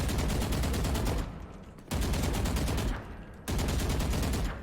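Sustained automatic rifle spray in Valorant, fired in three long continuous bursts separated by brief pauses, loud and dense with no talk.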